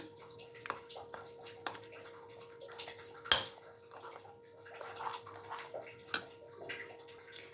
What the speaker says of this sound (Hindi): ये हम और इसमें पानी शामिल करेंगे ताकि थोड़ा नॉर्मल सा पेस्ट बन जाए।